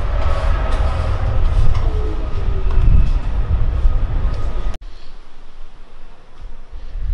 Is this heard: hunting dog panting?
no